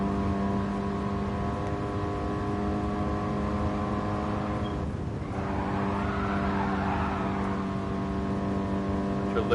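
Race car engine in a racing video game drones steadily at high revs through a full lap, shifting briefly midway, loud and continuous with no talk over it.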